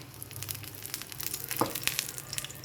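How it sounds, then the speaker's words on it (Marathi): Stuffed masala eggs frying gently in a little ghee over a low flame, giving a soft, steady sizzle with faint crackles and one brief scrape near the middle. "अंडे फ्राय करून घेते"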